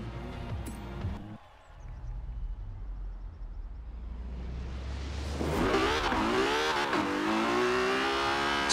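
Stock 2017 Ferrari 812 Superfast in Forza Horizon 4 revving hard with wheelspin, a low engine drone rising into a loud, climbing high-revving wail as the tires spin in third gear, steady and close throughout.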